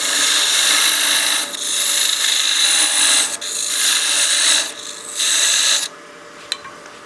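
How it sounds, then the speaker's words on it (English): Spindle gouge paring down a wooden bat house ornament on a lathe, a loud bright rasping cut in several sustained passes broken by brief pauses, ending with quieter spinning and a small click. "we'll start with that spindle gouge and start paring this down"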